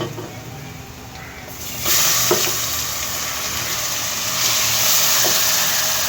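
Tomatoes go into spices already frying in oil, and the steady sizzle swells into a louder, broader hiss partway through, with a few stirring knocks, close by.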